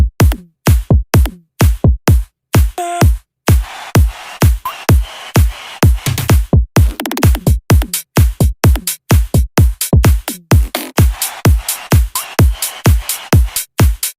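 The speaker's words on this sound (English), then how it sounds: "I added a kick, some claps. I also added this weird sample, some toms as well." A punchy electronic drum pattern with kick, claps, toms and an odd sample hammers out steady, evenly spaced loud hits, with short busier fills between them, playing alone throughout.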